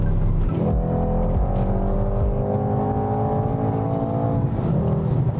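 Mercedes-AMG GT 63 S 4MATIC+ exhaust on the move, a steady loud engine drone with rising and falling harmonic tones as it accelerates and shifts, continuous throughout with no talking.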